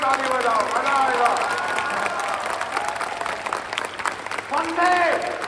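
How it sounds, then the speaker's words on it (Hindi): A big crowd at an Indian gathering claps harder on request, producing a sustained, dense roar of hands. Shouting voices ride over the clapping at the beginning and swell again near the end. "और जोर से ताली बजाओ, मजा आएगा।"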